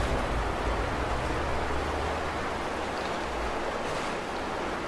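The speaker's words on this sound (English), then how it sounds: "Majestic waterfall" Waterfall in the Skyrim video game: a steady, broad rushing roar of falling water, constant and fairly loud throughout with no talk.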